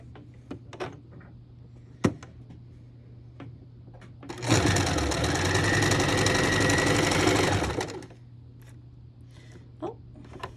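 Sewing machine stitching fabric squares in a single loud run of about three and a half seconds, close up, framed by scattered small clicks and handling sounds before and after.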